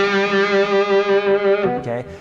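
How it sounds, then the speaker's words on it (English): Electric guitar played through a Fulltone Octafuzz pedal on its fuzz setting, a thick 1970s-style fuzz tone: one loud sustained note rings with dense harmonics for over a second and a half, then a few quick notes follow, alone. "I was always turning on my full tone octa fuzz set to the fuzz setting"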